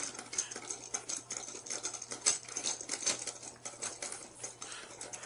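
A motorized outdoor HDTV antenna's motor clicks and whirs in quick, irregular ticking bursts near the mic, fairly quiet, with a low steady hum underneath and no talking.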